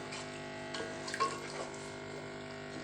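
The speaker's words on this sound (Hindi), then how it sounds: "अब इसमें नमक डालेंगे और पानी डाल देंगे।" Water runs and splashes steadily into a cooking pot of rice for Kabuli pulao for a few seconds, a soft continuous pour with small gurgles, fairly close.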